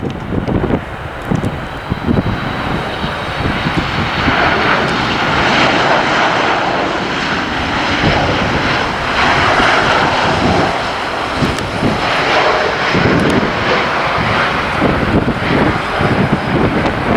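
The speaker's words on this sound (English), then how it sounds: "the Norwegian Airlines 737 MAX 8 is coming right now" A Norwegian Airlines Boeing 737 MAX 8 jet passes at night in December, its broad engine roar steady and fairly loud for the whole stretch, with some wind buffeting on the microphone and no talking.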